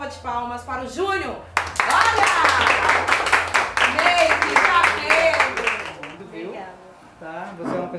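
At a party, a group of people bursts into dense, steady applause for Júnior for several seconds. A voice speaks just before the clapping starts, and talk resumes as the clapping fades.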